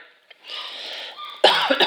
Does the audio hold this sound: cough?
yes